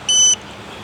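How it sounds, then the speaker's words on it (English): A single short, clean electronic beep sounds from an XAG P100 Pro agricultural drone controller as it finishes pairing, loud and close, followed by quiet. "We just wait for a beep on the actual controller, and then that means it's all paired."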